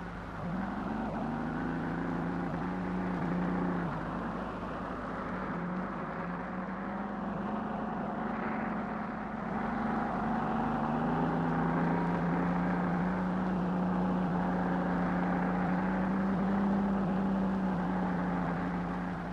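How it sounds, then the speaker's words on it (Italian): Steady, loud mechanical roar of tunnel drilling machines boring into the ground at a motorway tunnel construction site, with a low droning hum and grinding undertone throughout, no voices. "il rumore delle macchine che perforano il terreno con speciali trivelle"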